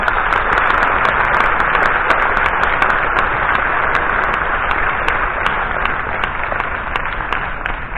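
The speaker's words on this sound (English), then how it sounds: "So give her a warm applause." An audience at the opening of the Science on Stage festival applauds a speaker being introduced, with loud, steady clapping near and dense, a few sharper individual claps standing out, easing slightly toward the end.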